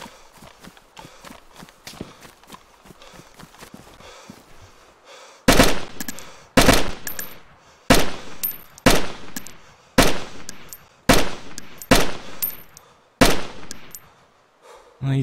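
Loud AK rifle shots in the video game DayZ, about nine single sharp reports at an uneven pace, each close and booming. Softer clicks and rustling come before them.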